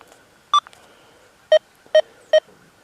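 Four short, sharp electronic beeps from a metal detector running at 40 kHz ring out one at a time against a faint background hum, with gaps between them.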